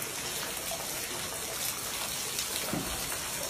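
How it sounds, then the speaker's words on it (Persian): Waterfall in a mountain valley in Badakhshan, Afghanistan, a dense, loud, continuous rush of falling water filling the whole stretch with no talk. "اینجا یک آبشاریه"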